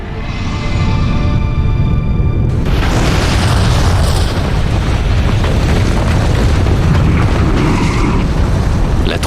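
Krakatoa volcanic eruption rendered as a documentary effect: after a brief quieter mechanical lead-in, a massive booming blast erupts and rolls on as a loud, dense roar with crackling debris to the end.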